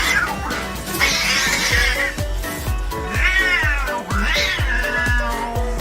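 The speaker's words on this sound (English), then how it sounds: "Don't be deceived by how real this fight actually looks. These cats are faking it." Cats yowl and screech in loud, drawn-out caterwauls over a thumping rhythmic music track.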